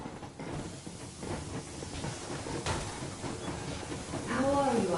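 A steam locomotive in the video game Metro Exodus chugs and hisses with mechanical clanks, a steady near rumble that swells toward the end, with speech faintly present.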